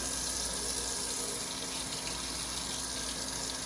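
Tap water runs steadily into a sink while an Elvie breast pump valve is washed, a continuous close hiss with no voices.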